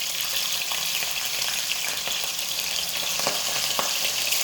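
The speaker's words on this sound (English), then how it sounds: "So when you're frying off your fish," Fish pieces fry in hot, smoking oil for a Nepali fish curry, giving a loud, continuous sizzle with crackling pops throughout and no voices.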